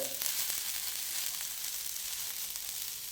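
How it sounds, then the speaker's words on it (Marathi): Chopped coriander roasting in a pan, a continuous soft sizzle and crackle at close range, fairly even in loudness with occasional stirring clicks. "त्यामध्ये आपली कोथिंबीर तुकडे करून भाजून घेणार आहे"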